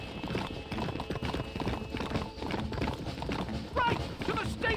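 Hooves pound in a rapid, steady gallop in Red Dead Redemption, loud and close, while game characters shout over the running horse and a faint whinny rises near the end.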